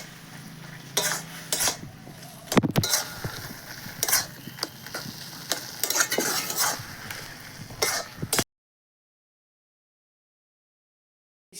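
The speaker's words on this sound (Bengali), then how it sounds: "এখন ভালো করে নেড়ে চেড়ে নামিয়ে নেব" A utensil stirs kochu leaf curry with added mango pieces in a pan, a run of scraping and clinking strokes with a light sizzle, close and fairly loud, before the clip falls silent.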